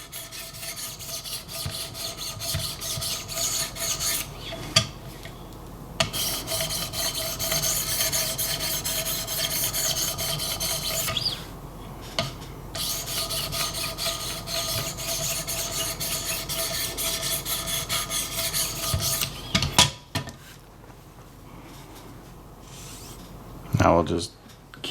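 Alternating knife sharpening strokes on a 1000 grit stone in a Wicked Edge guided system, sharpening an EmpEDC Nymble-W blade, give a steady close raspy rubbing that runs in long passes with brief pauses between sets.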